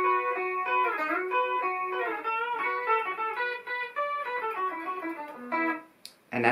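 Electric guitar notes ring together in a steady melodic line, sustained and layered with a slightly processed tone, cutting off abruptly near the end.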